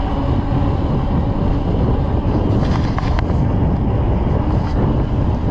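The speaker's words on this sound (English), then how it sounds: "Got a west wind about 15" Steady wind buffets the microphone on an e-bike ride in about 15 mph west wind and near-freezing cold, a constant loud rumbling roar with no breaks.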